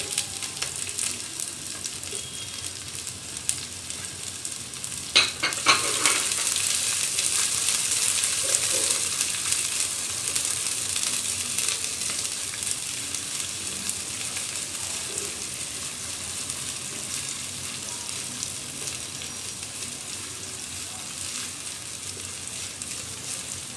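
Steady loud sizzling in hot oil, with a sudden burst of hissing as onions are added, then continuous crackling and occasional stirring.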